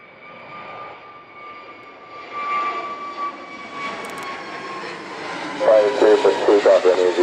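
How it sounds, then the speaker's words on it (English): A jet aircraft engine hums with a steady whine that slowly swells, while a voice talks faintly over it toward the end. "the air traffic controllers and the aircraft engine sounds"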